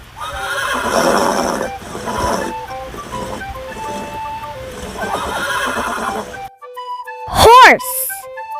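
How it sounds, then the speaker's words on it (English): A horse neighs once in a loud, shaky whinny near the end, after a stretch of children's music playing under the clip. "Horse."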